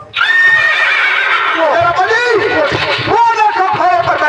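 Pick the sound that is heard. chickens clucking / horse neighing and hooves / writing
horse neighing and hooves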